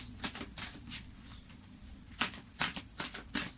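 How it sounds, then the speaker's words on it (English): Tarot cards being shuffled and cut by hand, giving soft, close papery riffles and slaps in a loose, uneven rhythm. "I will be cutting the cards."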